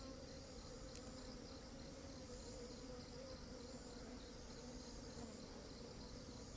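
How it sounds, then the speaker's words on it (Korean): Honeybees drone softly and steadily from an open beehive frame holding honey, brood and young bees, a faint continuous hum layered with high insect chirring and no voices. "어린 벌들이 태어난 벌들이 있고."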